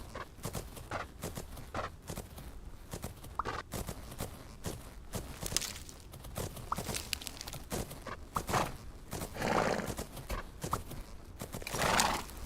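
Horse in the video game Fernhoof Grove, with steady clip-clop hoofbeats throughout and a couple of loud whinnies standing out near the end, all close and without talk.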